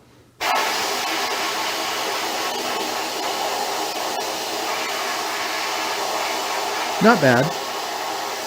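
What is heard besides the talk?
air blasting gun in a blasting cabinet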